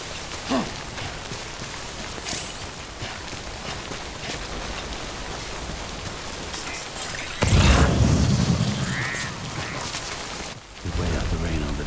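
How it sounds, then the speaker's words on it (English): Rain pours steadily across a Death Stranding game landscape, a dense continuous hiss with a louder burst of heavier downpour and a deep rumble midway, then settling back to a steady patter. "Listen to this rain."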